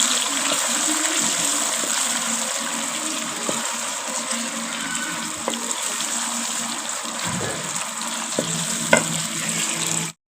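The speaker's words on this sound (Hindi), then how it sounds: "अब हम डालेंगे टमाटर। हम मिक्स करेंगे और अच्छे से भूनेंगे।" Tomatoes sizzle loudly in a hot pan while being stirred, a constant frying hiss with occasional scraping and clinks, no voices.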